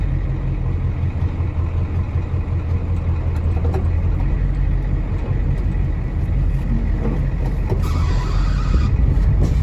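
A 1991 IDI diesel truck rolls along slowly in first gear, two-wheel drive, on a farm, its engine giving a steady, low, rumbling drone from start to finish.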